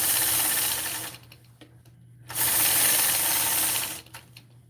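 Sewing machine ruler quilting with a sway ruler, stitching around a box shape in two loud whirring bursts separated by a short quiet pause with soft handling noise, close and clear.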